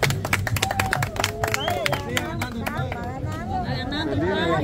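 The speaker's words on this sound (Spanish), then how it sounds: "Aplausos para ella." A crowd at a Halloween party in an outdoor plaza claps in a dense, steady patter, with chatter and voices running over it throughout.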